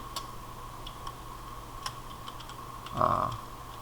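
Sparse keystrokes tap on a computer keyboard while typing in Word 2016. The light clicks are spaced irregularly over a faint steady hum, and a brief louder rustle comes near the end.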